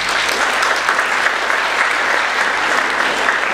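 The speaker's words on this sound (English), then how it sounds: "So first of all, clap for you." Steady applause from a spectator audience at a Holi thanksgiving event, dense and continuous clapping at moderate loudness throughout, without speech on top.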